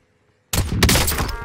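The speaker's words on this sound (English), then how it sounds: "I'm about to shoot him." Gunshots in the video game Modern Warfare: after a brief silence, a sudden loud burst of shots breaks in and runs as a dense, close volley to the end.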